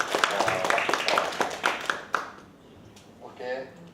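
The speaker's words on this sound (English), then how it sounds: "please clap your hand." Audience clapping hands in a small room after a session, a scattered run of sharp claps from a few people that fades out after a couple of seconds, followed by a brief voice.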